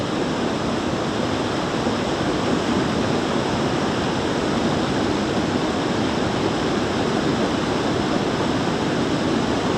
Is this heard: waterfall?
yes